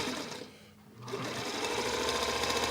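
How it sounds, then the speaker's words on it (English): A sewing machine runs with a fast, steady mechanical whir and rattle, briefly easing off before resuming at full speed, close and clear. "I thought I had it wrapping around the wheel there while I was sewing"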